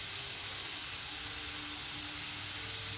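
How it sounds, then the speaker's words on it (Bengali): Hot sugar syrup poured into a pan of boiled olives and tomatoes sizzles as a steady, even hiss, loud and continuous with no voices, during a simple village lunch cook. "শিরা বা রসটা জাল দিয়ে রেখেছিলাম, সেটাই এর মধ্যে দিচ্ছি।"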